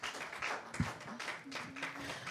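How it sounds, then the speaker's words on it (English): A class audience in a church lesson claps for a girl, a short, faint scatter of applause with a few low background sounds mixed in. "Give her a clap."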